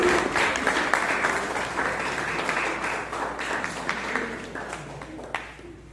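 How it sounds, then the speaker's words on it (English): A crowd applauds for the third runner-up of the men's sprint race at the 2025 Mechukha kayaking challenge, a steady, sustained round of clapping that lasts throughout with a few louder claps standing out. "A huge round of applause, please."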